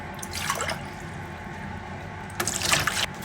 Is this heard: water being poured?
yes